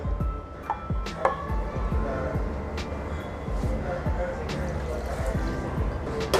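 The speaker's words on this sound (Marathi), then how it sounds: "तीन वाट्या मी आता पाणी घालते" Water poured into sautéed rice in a pot for prawn pulao, with close trickling, splashing and dripping sounds over a steady low background.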